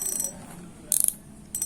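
A fishing reel's drag being loosened gives off short bursts of rapid mechanical clicking, each burst brief and crisp, set apart by quiet pauses.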